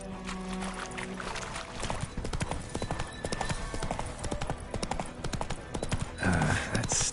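Hooves of the horse Roach clip-clop at a steady gallop in the fantasy video game The Witcher 3: Wild Hunt, close and loud over a busy game soundscape, with a louder burst near the end.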